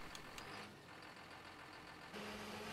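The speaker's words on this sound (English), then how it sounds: "I fire this tractor up" A tractor engine in Farming Simulator 15 turns over and settles into a steady low idle, with a louder surge near the end as it fires up.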